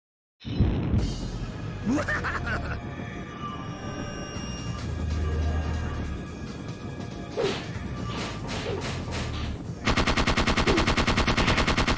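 A gun emptying its magazine in the game Parasite Eve 2, a long run of rapid, closely spaced shots with sharp impact cracks, ending in a louder, denser burst.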